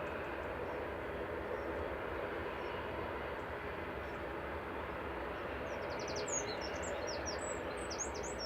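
An Istanbul-liveried airliner arriving from Dalaman at Manchester Airport, a steady broadband jet roar held throughout at moderate distance, with birds chirping faintly near the end.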